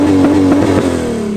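A Ford AU Falcon exhaust fitted with Pacemaker 4480 extractors sounds close and loud, a steady rumbling drone with a quick rhythmic pulse through the first second before easing slightly.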